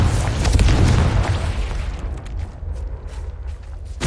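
A Confringo spell explodes in the video game Hogwarts Legacy, with a loud, dense burst for the first couple of seconds that decays into a rumbling tail and quieter crackling.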